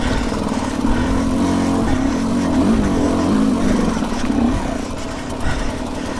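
A KTM 200XCW two-stroke enduro motorcycle labours up a steep slope of loose rocks, its close engine buzzing and warbling with uneven throttle blips and revs throughout, no voices.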